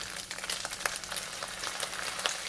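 Soybean paste, oyster sauce and dark soy sauce fry in a pan for lo mein, giving a soft, steady sizzle with crackling spits. It is quiet and close, with no voices.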